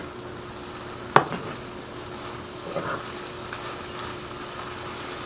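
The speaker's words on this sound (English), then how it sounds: "we're going to stir to combine this. We want to combine it really well." Chicken flauta filling is stirred in a pan on a smooth-top stove, with a soft steady sizzle underneath, one sharp utensil clack against the pan and quiet scraping movements afterward.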